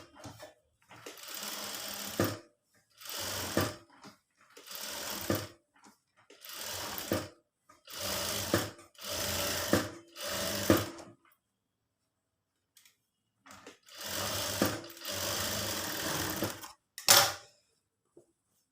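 Sewing machine stitching an embroidered blouse, rapid mechanical chattering in repeated bursts of a second or two separated by short pauses, close and clear with no talk.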